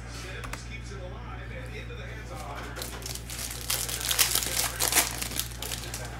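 A foil trading card pack from a 2019 Prizm Football hobby box gets ripped open, bursts of crinkling and tearing building up near the mic over a steady background hum, with someone talking at points.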